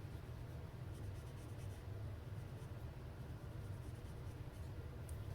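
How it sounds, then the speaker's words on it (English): Blender pen rubbing color onto a paper envelope, a faint, steady scratchy scribble that continues without a break and without talk. "I'll go in with the blender pen and we'll just blend that color onto the envelope"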